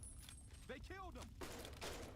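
Faint, rapid bursts of gunfire from Fallout: Tale of Two Wastelands crackle in the background, with a voice briefly audible over them.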